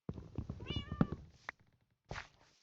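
Cat meowing in Minecraft, a couple of clear, close meows among soft game thumps and steps, with brief quiet gaps between sounds.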